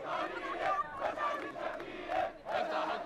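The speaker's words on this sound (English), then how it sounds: "The crowd tries to break through the cordon to harangue Prime Minister Shafiq at the parliament buildings" Protest crowd pushing against a police cordon outside parliament buildings, massed voices roaring and chanting in rising and falling waves, loud and close, with no clear individual speech.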